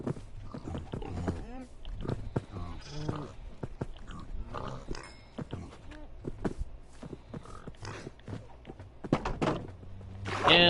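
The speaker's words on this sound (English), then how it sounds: "Pigs!" Farm animals in the Minecraft Bedrock Edition video game, pigs among them, make a busy mix of short grunts, bleats and soft thunks in quick, irregular succession, with a voice talking at times.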